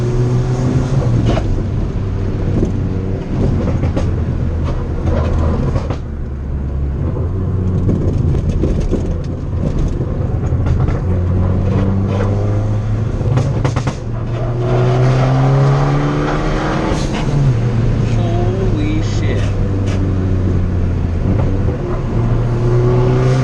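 Widebody car with a turbo setup pushed hard on a canyon road, engine revving up and down through gears with loud exhaust roar, rising and falling pitch sweeps and brief lifts between pulls, heard close from inside the car.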